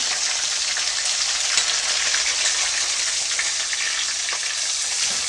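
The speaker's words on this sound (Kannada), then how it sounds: "ಇವಾಗ ಇದನ್ನು ಒಂದೆರಡರಿಂದ ಎರಡರಿಂದ ಮೂರು ನಿಮಿಷ ಚೆನ್ನಾಗಿ ಫ್ರೈ ಮಾಡ್ಕೊಳ್ತೀನಿ" Chopped onions and green chillies fry in oil over a medium gas flame for a puffed rice snack, giving a loud, dense, continuous sizzle with no pauses and no voices.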